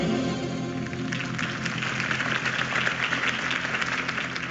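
A rally crowd in Batman: The Telltale Series applauds after Harvey Dent's campaign speech, a steady mid-distance wash of clapping with a low music bed underneath.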